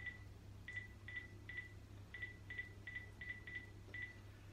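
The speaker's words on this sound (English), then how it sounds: "Hang on, I just ring Colin the cleaner, innit?" A series of short, clear telephone keypad tones, evenly spaced beeps dialing a number over a low steady hum, fairly quiet.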